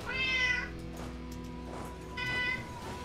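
A cat meows twice close by, once at the start and once near the end, with a steady hum underneath while a player works through a game of Europa Universalis IV.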